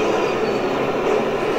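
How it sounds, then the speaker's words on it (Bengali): Inside Guangzhou South railway station, a bullet train rumbles close by with a steady, loud rolling drone and faint rail hum, no voices heard. "এটা হচ্ছে গুয়াংজু সাউথ রেলওয়ে স্টেশন"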